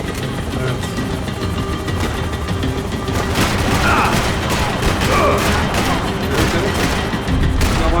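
Rifle gunfire in Max Payne 3, a dense loud barrage of shots and booms over a rumbling engine, with voices shouting through the chaos.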